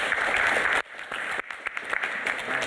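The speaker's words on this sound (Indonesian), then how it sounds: "Tepuk tangan dong" Audience applause breaks out at a religious talk show with an ustadz, a dense wash of clapping that dips sharply partway through, then resumes at a slightly lower, steady level.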